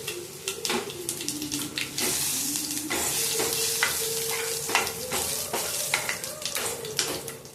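Lump asafoetida and cumin crackle in hot oil for a Tamil sambar tempering, a close, continuous sizzle broken by stirring scrapes and sharp pops.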